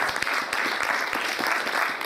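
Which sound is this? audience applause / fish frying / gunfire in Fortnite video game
audience applause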